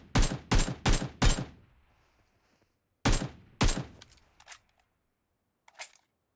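Gunfire in a video game comes as a quick burst of four sharp shots, then a pause, then two more shots followed by a few fainter, scattered reports, all with no talk.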